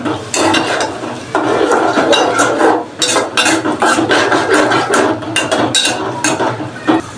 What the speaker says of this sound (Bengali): কিউব করে কাটা পেঁয়াজ, এখন একটু নেড়ে চেড়ে নিচ্ছি।